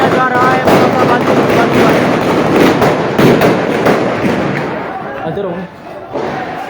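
Rangers fire straight into protest crowds in Muzaffarabad: a dense run of sharp cracks and thuds, loud and close, over a roaring crowd with shouting voices, thinning toward the end.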